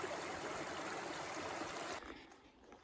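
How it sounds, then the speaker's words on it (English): A small brook flows along a forested Vermont hillside on the Appalachian Trail, a soft steady babble that drops away sharply near the end, leaving faint trickling. "Beautiful little brook here."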